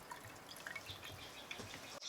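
Water from an RV pump runs into the plumbing lines with a soft, continuous trickle and scattered drips, fairly quiet and without talk, before a sudden stop.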